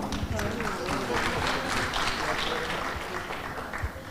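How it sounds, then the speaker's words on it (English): Applause from a symposium audience on sustainable building and cities thanking speakers and moderator, a fairly soft, continuous wash of clapping with a faint murmur of voices beneath it, tapering off toward the end. "give applause again for all"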